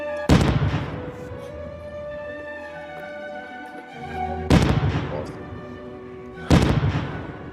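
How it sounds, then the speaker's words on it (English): Small explosions, three sharp loud booms spaced a few seconds apart, each with a short ringing decay, and a speaking voice between them. "These are little explosions"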